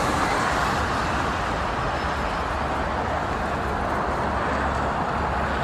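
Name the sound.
buses in street traffic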